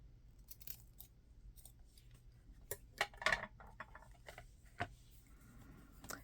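Scissors cut paper from a vintage book in a quiet room, giving a few sparse, crisp snips and rustles up close, with the busiest cutting in the middle.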